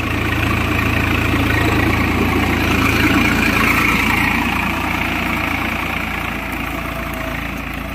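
A Swaraj 855 tractor engine with a plough attached idles steadily at close range, a deep, even rumble with a constant mechanical drone and no voices over it.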